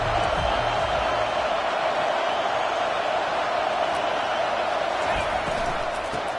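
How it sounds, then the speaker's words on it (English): A home crowd roars at a college football game as the defense tries to get off the field on third down, a loud, continuous wash of cheering that holds steady throughout. "Here comes this home crowd as the defense tries to get off the field on 3rd down."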